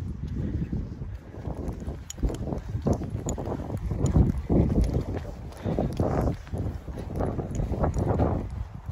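Strong gusting wind on a mountainside buffets the microphone with a continuous low roar that swells and dips, loud and close throughout.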